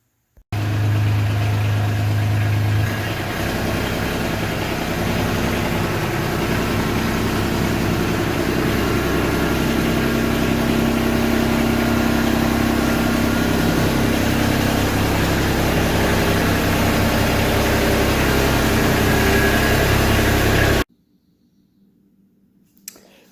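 A Kubota LX2610 compact tractor's engine runs at a steady, loud drone for about twenty seconds while it is pulled in, then cuts off, leaving near silence.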